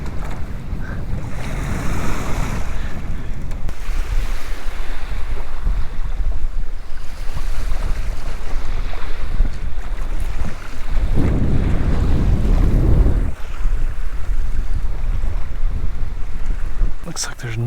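Wind gusting across a lake whipped into whitecaps on a breezy day of bass fishing from a boat, with buffeting microphone rumble and lapping waves throughout, swelling into a heavier gust near the end.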